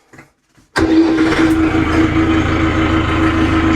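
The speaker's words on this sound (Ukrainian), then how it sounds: "Так, заводимо апаратіка." A Euro Feng 554 Pro tractor engine cranks briefly after a quiet moment, then catches and settles into a loud, close, steady diesel idle with a constant droning hum.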